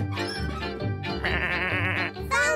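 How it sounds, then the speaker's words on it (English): A cartoon sheep bleats in a wavering, voice-like cry over a children's animated show backdrop, fairly loud and close, with a couple of drawn-out bleats and no other talk. "Where are you, Mr. Sheep?"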